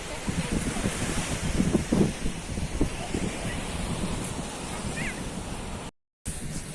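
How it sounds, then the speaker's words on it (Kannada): Cold wind blows hard across the seashore, a constant buffeting roar mixed with breaking surf, and a faint voice is briefly audible under it before a short dropout near the end. "ಗಾಳಿ ಕೂಡ ಬಹಳಷ್ಟು ತಂಪಾಗಿ ಬರ್ತಾ ಉಂಟು"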